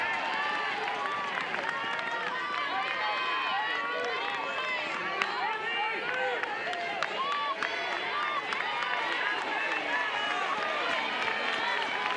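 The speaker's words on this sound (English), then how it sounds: "Alabama crowd offering encouragement" The home crowd at an Alabama college softball game against Missouri keeps up a dense, continuous roar of chatter, shouts and scattered claps. The encouragement is steady and mid-distance, with no single cheer standing out.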